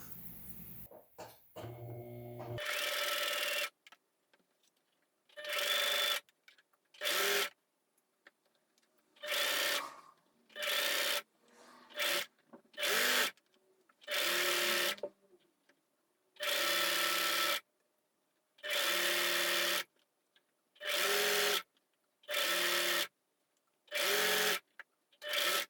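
A sewing machine runs across scrap shirt fabric in repeated stitching bursts of one to two seconds, with clear silent gaps between, close and steady, with no voices.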